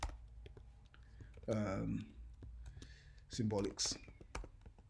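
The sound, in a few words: typing a command on a computer keyboard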